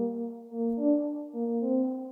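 A soft undertone synth, a low-passed sine-wave Serum preset, plays a few sustained mellow tones that shift pitch in a slow chord-like sequence, quiet and alone.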